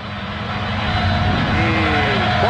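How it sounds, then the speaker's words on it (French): Rally car engine in a PlayStation 2 rally game, a continuous droning, buzzy engine tone with rising whine that swells slightly louder over the few seconds, heard alone without speech. "je trouve que les voitures ont parfois un drôle de bruit"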